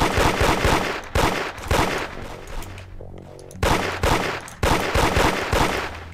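Rapid video-game gunfire in Roblox Da Hood, repeated bursts of loud close shots across most of the span with a brief lull in the middle, no talking.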